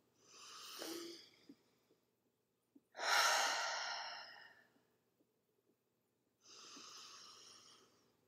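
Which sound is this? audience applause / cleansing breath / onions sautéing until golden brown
cleansing breath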